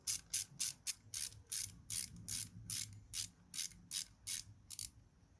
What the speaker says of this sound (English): Now we're gonna tighten the bolt here